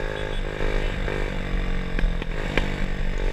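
RXF 50cc mini trail motorcycle engine running steadily close by, a buzzy drone with rattles and small clattering knocks, heard on an outdoor ride.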